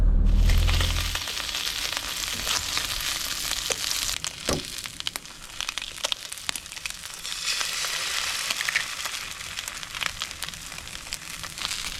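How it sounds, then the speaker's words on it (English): Breakfast sizzles and fries in a pan aboard a boat, a steady, close crackling hiss that runs on alone, with a few sharper pops and clatters of the pan. "I'll pull up and cook Azza some brekkie"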